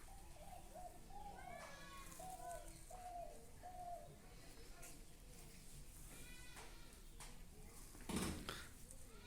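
Pigeons coo softly at a village home on a foggy morning, with low murmuring calls repeating over a steady background hum while people talk nearby.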